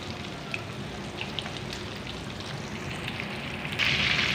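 Chicken pieces fry in oil in a pan over moderate heat, giving a steady, fairly quiet crackling sizzle with small pops that swells a little louder near the end, with no voices.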